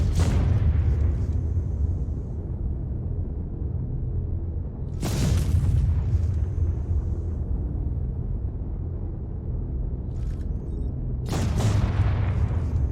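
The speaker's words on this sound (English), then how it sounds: "The explosive effects and the kind of the recoil of the cannons, firing back looks really cool" Idris warship cannons in Star Citizen fire in three heavy booming blasts, each followed by a rolling explosive rumble, loud and close against a constant low drone, with no talking.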